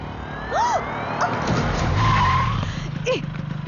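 A car braking suddenly at a speed breaker, its tires skidding and squealing in short rising-falling bursts over a steady engine rumble, with voices speaking over it.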